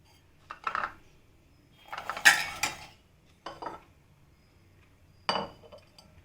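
A spoon stirs avial, a Kerala mixed-vegetable curry with curry leaves, in a metal pot on the stove. A few short, separate clinks and scrapes come in irregular bursts with quiet gaps between them, close by and moderately loud.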